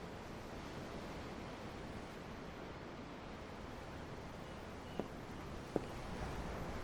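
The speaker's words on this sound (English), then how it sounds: "The ocean? Yeah. The waves." Steady ocean surf from Tales of Arise, heard from aboard a ship at sea, forms an even, broadband wash with two faint clicks near the end and no voices.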